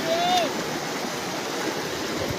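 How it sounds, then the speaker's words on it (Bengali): Floodwater pours in at the Manikanagar crossing after an embankment breach, a steady broadband rush like a stream or waterfall filling the whole stretch, with a brief whistle-like tone at the start. "মানিকনগর মোড়ের সামনে এইমাত্র জল ঢোকা শুরু করলো।"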